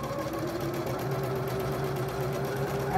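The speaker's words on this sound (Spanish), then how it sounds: "Aquí vamos a coser" A domestic sewing machine stitching the bias binding of a blouse, running in one steady, close, even whir for a few seconds without pause.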